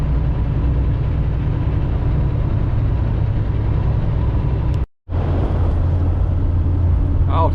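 Heavily loaded truck's engine droning low and steady while driving, a continuous rumble with a brief dropout partway through.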